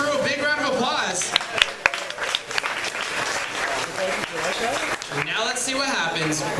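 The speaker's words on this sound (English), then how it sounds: "let's give our crew a big round of applause" A studio audience applauds a film crew with sustained, dense clapping that stays loud throughout, a few sharper individual claps standing out near the start, and cheering voices mixed into the crowd noise.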